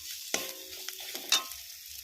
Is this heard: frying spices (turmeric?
yes